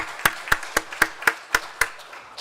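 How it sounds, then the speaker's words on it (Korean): An audience at a church vision proclamation ceremony claps in unison, about eight sharp, evenly spaced beats in a steady rhythm, fairly close and loud. "우리 박수로 축하하겠습니다."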